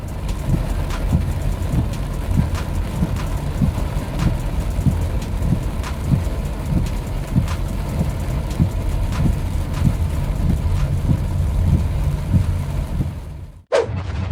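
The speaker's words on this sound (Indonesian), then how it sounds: "Angin badai di Jiangsu," Storm wind in Jiangsu, China roars as a dense, continuous wash of noise with rain-like hiss and low rumble, loud and steady throughout, briefly cutting out near the end.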